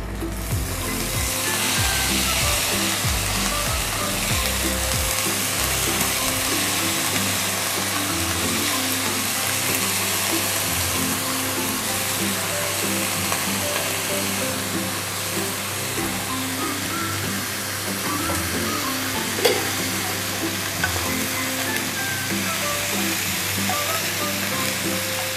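Thorny brinjals fry in a pan with a loud, unbroken sizzle that lasts throughout, while stirring adds occasional scraping and clatter.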